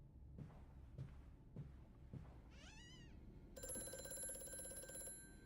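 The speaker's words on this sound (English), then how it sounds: "That's a phone, eh?" A telephone in Amnesia: A Machine for Pigs rings with a steady electronic trill over the last couple of seconds, after soft footsteps and a brief wavering tone in a quiet space.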